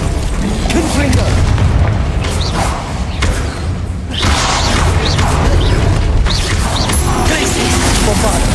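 Confringo fire spell blasts in the video game Hogwarts Legacy, loud repeated booming bursts and crashing impacts over a dense battle din, with a brief lull midway before the explosions resume.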